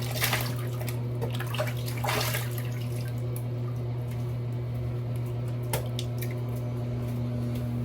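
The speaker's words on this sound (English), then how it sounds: "All right, let's rinse." Water splashes repeatedly against a face as it is rinsed after a wet shave with shave soap. The sloshing bursts are close and intermittent, and a steady low hum runs underneath.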